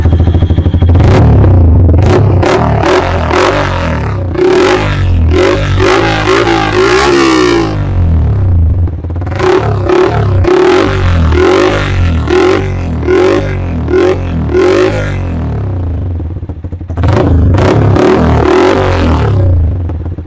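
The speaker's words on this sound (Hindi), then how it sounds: "ये 6 कट एक्रापोविक, इसका भी साउंड आप सुन लो कि कैसा साउंड है" Yamaha R15 V4 motorcycle with an Akrapovic 6-cut exhaust revving hard in repeated bursts, loud and close, with sharp throttle blips, short pauses between revs and no talking.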